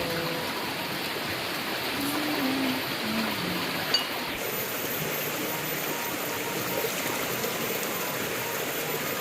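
Food rinsed under running water in a rustic hut kitchen before cooking nasi liwet, a steady close splash and trickle that stays even throughout with no talk.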